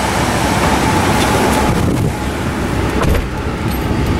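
Loud, steady rushing of the air conditioning fan in a 2011 Ford F-150 Platinum 4x4 EcoBoost pickup, blowing constantly throughout, with a broad whooshing roar and no voices.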